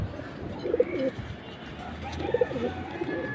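Pigeons coo in two soft, rounded bursts a moment apart, close by, with quiet background noise between the calls.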